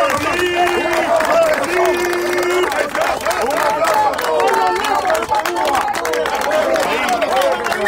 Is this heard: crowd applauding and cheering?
yes